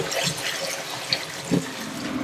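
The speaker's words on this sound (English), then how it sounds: "The first thing I'm going to do is give them a really good rinse" Freshly foraged nettles are rinsed under running water, a steady close rush from the tap broken by a few brief splashes, with no voices.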